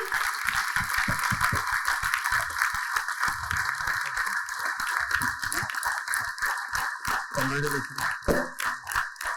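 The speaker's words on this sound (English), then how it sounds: "Please give a big round of applause" Audience applause at an award ceremony, a steady dense wash of clapping that carries on for the whole stretch, with a voice briefly speaking over it near the end.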